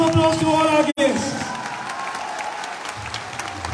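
A large audience in a Delhi auditorium breaks into loud, sustained applause for first-time guests at a company event, with dense clapping and some cheering after a brief gap.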